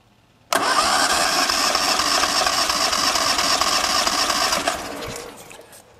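The engine of a Westfield is cranked by the starter during a compression test with a gauge fitted, making a loud, steady whirring drone that starts abruptly and runs for about four seconds before tapering off.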